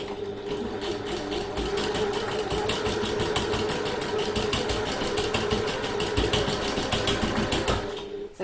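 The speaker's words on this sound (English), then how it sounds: "I've got a straight stitch only machine, and I've just sewn some stitches backwards and forwards over the end" A straight-stitch-only sewing machine runs fast and close, sewing stitches backwards and forwards across the end of a handbag piece. Its needle hammers in an even, rapid rhythm for several seconds, then stops.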